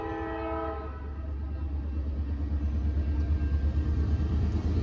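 Norfolk Southern northbound general freight train with intermodal and autorack cars passing through a level crossing, horn blaring at the start over a steady loud rumble of wagons rolling by close.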